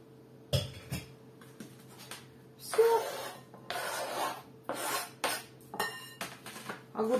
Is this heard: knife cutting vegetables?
yes